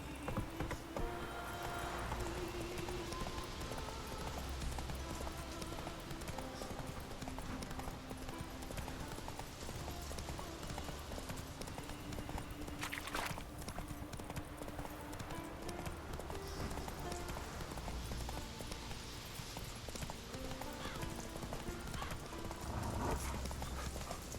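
Steady rhythmic hoofbeats of a galloping horse in the Witcher 3 video game, continuous and fairly loud over an even game soundscape, with a faint whinny possible near the start.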